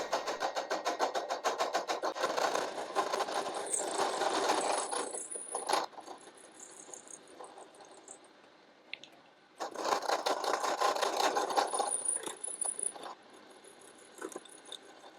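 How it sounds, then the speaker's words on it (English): A milling machine fly cuts across a fixture, with two long spells of dense, steady metallic cutting noise separated by a quieter pause, then a brief resumption at the end. "and then fly cut the whole thing"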